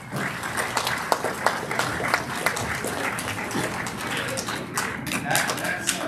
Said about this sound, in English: You guys deserve a big round of applause